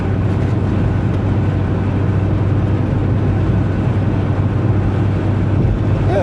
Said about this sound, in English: here, we're in 5th gear, full throttle